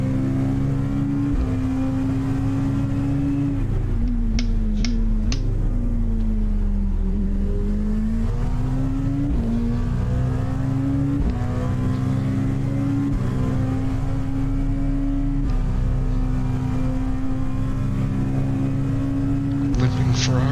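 Engines of LMP1 prototype race cars in the iRacing sim, a continuous loud droning engine note shifting up and down through gears, with other cars passing, under occasional talk.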